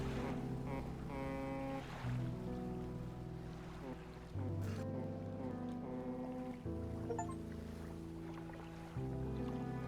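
A boat with a bad engine chugging slowly through the water in the fishing video game Dredge, heard as a faint, steady low hum with layered synth music tones shifting over it, no talking.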